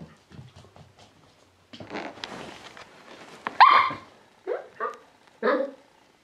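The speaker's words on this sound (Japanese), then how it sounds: "なんでワンワン言ってんのかな？" Several sharp dog barks ring out close by, mixed with softer whimpers and low background voices in the room.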